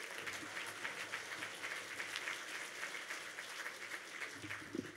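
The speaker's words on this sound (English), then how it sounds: "a great round of applause for Calvin" Distant, faint applause from an audience at a South Florida Muslim community gala, a soft continuous patter of many hands sustained evenly across the moment.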